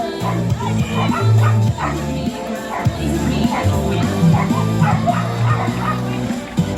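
Several dogs bark and yip in quick, uneven bursts, fairly close, at a dog jumping show at a fall fair, with crowd noise and voices mixed in underneath.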